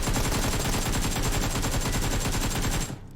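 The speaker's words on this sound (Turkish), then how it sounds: "Kim lan öyle vuruyor? Lan hala vuruyor bak." Rapid automatic gunfire in a 4 vs 4 PUBG Mobile match, loud and nearly continuous, with dense bursts of shots layered over each other until they cut off abruptly just before the end.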